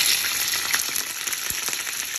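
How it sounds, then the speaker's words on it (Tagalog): Milkfish fries in hot olive oil in a pan, a loud, dense, continuous sizzle heard up close, with small pops and crackles and no talk. "Olives oil din natin to piprituhin."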